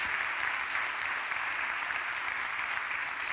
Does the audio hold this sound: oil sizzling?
no